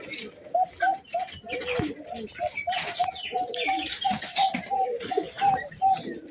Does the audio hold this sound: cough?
no